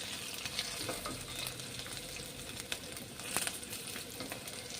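A mixed-vegetable bhaji mixture roasts in a pan, giving a quiet, crackling sizzle with occasional spatula scrapes and ticks, near and without speech.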